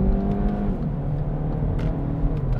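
A Hyundai i30 SW 2017 with a 1.4 turbo petrol engine of 140 horsepower accelerates, giving a steady, fairly loud engine drone and road whir from inside the car, with no talking.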